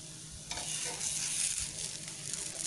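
A potato dhirde, a savoury pancake, cooks in a pan with a steady low sizzle throughout and a few soft scraping stirs. There is no talking.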